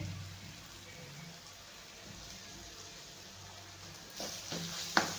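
Turmeric, red chilli powder and homemade black masala being roasted in a pan, with a faint low sizzle that turns into louder crackling and stirring scrapes toward the end.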